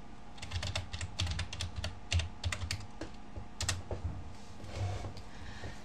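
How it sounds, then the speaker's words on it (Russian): Typing on a computer keyboard to enter a web address, with quick close clicks in short bursts and brief pauses between them, heard alone without speech. "печатаем с вами, вводим адрес"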